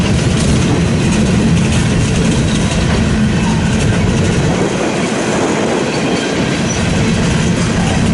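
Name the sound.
eastbound freight train with many locomotives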